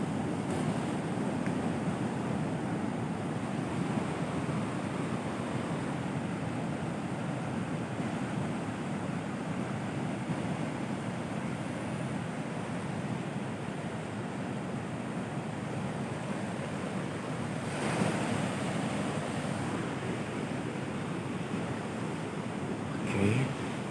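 Large ocean waves break on a south coast beach in a continuous loud roar of surf. Wind rumbles over the microphone, and a few heavier crashes surge through. No one speaks.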